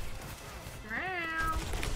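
A cat meows once, a rising-then-falling wavering call lasting about half a second, heard fairly close over a steady background hum.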